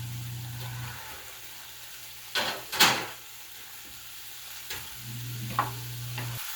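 Sausage and peppers sizzling in a pan, a soft steady fry heard close, broken by a couple of louder clanks and scrapes of utensils or cookware, with a faint low hum underneath and no talking.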